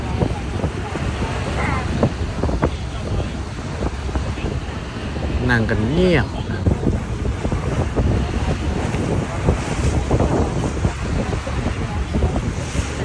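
Wind and waves buffet a boat at sea on a trip to Koh Kham, a steady roar of gusting wind against the microphone and rushing water, with brief speech over it around the middle.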